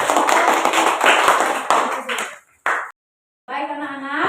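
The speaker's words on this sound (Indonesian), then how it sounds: "Tepuk tangan dulu buat kelompok 3." Schoolchildren in a classroom burst into dense, quick clapping for group 3, which fades out after a couple of seconds. Children's voices follow after a short silence.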